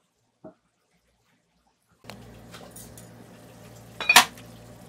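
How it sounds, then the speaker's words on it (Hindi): A metal lid clatters onto a pot of cooking mash ki daal (urad lentils with tomato and onion) in a home kitchen, one sharp close clank near the end over a low steady hum, after a brief earlier tap. "अब इसके बाद लिड लगाएंगे"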